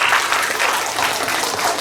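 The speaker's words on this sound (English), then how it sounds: "Clap for everybody." Children applaud together at a Vasant Panchami school assembly, a steady, dense wash of small hands clapping that fills the whole moment without pause.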